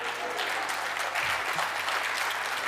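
An audience at a Hindi poetry gathering bursts into sustained applause, dense and steady clapping that fills the whole stretch.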